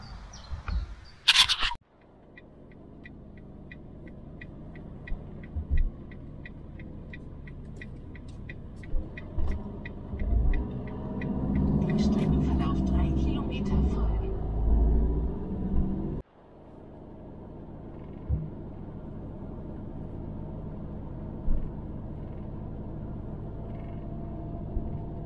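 A car drives toward Koschen on the Polish side, a low interior rumble and road drone rising and falling, with a sharp clunk near the start and another abrupt knock partway through.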